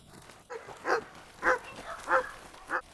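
A dog gives four or five soft, muffled barks or yelps spaced about half a second apart, fairly faint against quiet background.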